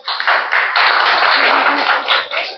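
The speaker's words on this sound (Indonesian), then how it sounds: "Tepuk tangan dulu." Loud, close clapping from a group of participants in an Indonesian teacher training class, a dense continuous patter of hands that swells and dips for a couple of seconds with no talking.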